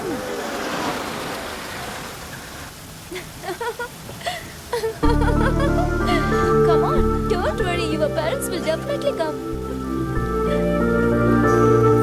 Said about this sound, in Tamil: மழை சூப்பரா இருக்குல்ல?